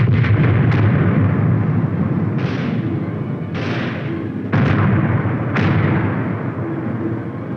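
A 4.2-inch mortar platoon lays down a heavy blanket of fire, loud booming blasts landing in quick succession about every second, each with a sharp onset and rumbling decay, with no voices.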